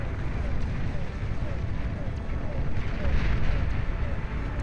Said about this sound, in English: A lot of them firing at those SAM turrets.